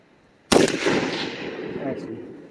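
A single loud gunshot from a Geissele Super Duty rifle cracks out sharply, then a long reverberant echo rolls away and slowly decays.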